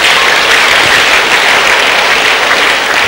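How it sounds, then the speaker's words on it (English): Church congregation applauding steadily during a Wednesday service, a dense, continuous wash of clapping from many hands that holds loud and even from start to finish. "Give him a good clap off from somebody."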